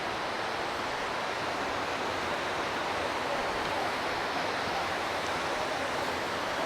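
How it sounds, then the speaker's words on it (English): Mountain water flowing on Mt. Baldy, a constant broad rushing wash that stays even and loud throughout, with no voices. "The sound of the water"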